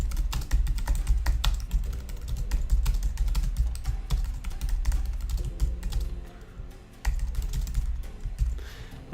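Rapid clicking of keys on a computer keyboard, steady and close, with brief pauses between bursts of typing.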